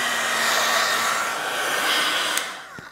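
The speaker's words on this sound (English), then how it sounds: "I'm going to use this one, like the Wow dual heat tool, and I'm just going to use the low setting." A Wow dual heat tool runs on its low setting with a steady, close, airy hum and whoosh for most of the time, then tapers off near the end with a small click; no voices.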